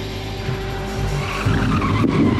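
Race car tires squeal and skid on the Bondurant racetrack, a loud, sustained scrub over engine noise that swells toward the end.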